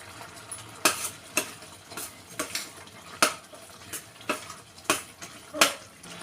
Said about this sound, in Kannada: ಸೊ ಇವಾಗ ಬೆಲ್ಲ ಎಲ್ಲ ಕರಗ್ತಾ ಇದೆ ಇವಾಗ ಸ್ವಲ್ಪ ಒಣ ಶುಂಠಿ ಒಂದೆರಡು ಏಲಕ್ಕಿ ಒಂದೆರಡು ಲವಂಗ ಹಾಕ್ಕೊತಿದ್ದೀನಿ